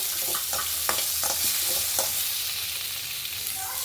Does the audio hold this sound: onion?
yes